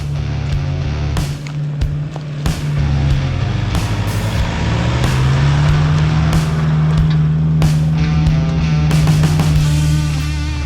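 A 4WD climbs a steep, eroded dirt track with lots of erosion mounds, its engine holding a loud, steady droning labour that rises and shifts pitch as it strains uphill, with occasional knocks and clunks over the terrain.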